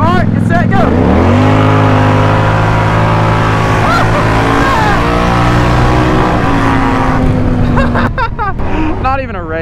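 A Can-Am Outlander and a Polaris Highlifter ATV race side by side, their engines roaring loudly close by and climbing in pitch as they accelerate and shift. A voice is heard over the engines near the end.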